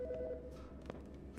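A faint electronic telephone ring in the Autopsy Simulator video game sounds briefly in a medical examiner's office, a short warbling tone with a few soft clicks after it, quiet and alone.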